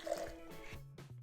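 Hot, nearly boiling water is poured into a glass, giving a faint, brief liquid trickle and splash heard on its own.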